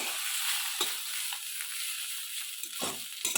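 Mixed vegetable fry with a little sugar stirred in a pan, a faint, steady sizzle with a few soft scrapes of the spoon against the pan and no one talking.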